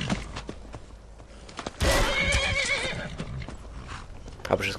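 A horse neighs loudly with a shrill whinny while under attack in Skyrim, preceded by scattered thuds and hoof clops and followed by faint clip-clops.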